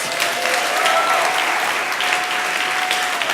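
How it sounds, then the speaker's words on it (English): Sustained applause from a lecture audience, steady and full throughout with no voices standing out. "Give yourselves a round of applause"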